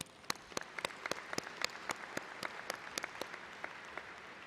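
Sparse, rhythmic clapping in a large arena at a graduation ceremony, a handful of distinct claps over a low room hum, moderately distant.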